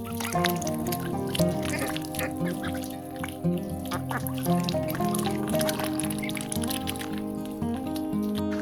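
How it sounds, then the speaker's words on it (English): Cayuga ducks splashing in a big mud puddle, with repeated honking quacks from several birds, wet dabbling and dripping sounds close by, and a faint voice now and then. "these ducks would rather play in a big mud puddle than jump in some clean water"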